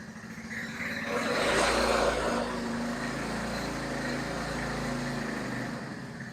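Small 200cc CVT four-stroke oil-cooled engine on a go-kart buggy rises in a steady drone as it accelerates, swelling louder for a moment, then holding a continuous close-up hum.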